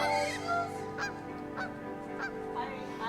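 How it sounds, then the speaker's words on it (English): Seagull calls from a video game ring out as a few short, honking cries spaced about half a second apart, over a steady tonal backdrop. "Oh my god, I just got a seagull to join my flock!"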